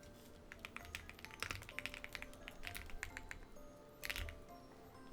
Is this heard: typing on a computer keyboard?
yes